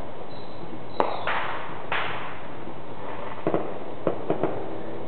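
Fireworks bursting outdoors at dusk on the Fourth of July, with one sharp crack followed by a scatter of lighter pops and booms at varied distances over a quiet background.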